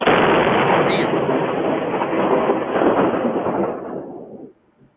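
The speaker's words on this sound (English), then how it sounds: "a heavy crack of thunder rolls over the porch" A heavy crack of thunder from lightning striking a tree near a porch bursts loudly and rolls on as a dense, booming rumble for several seconds before cutting off, picked up by a doorbell camera.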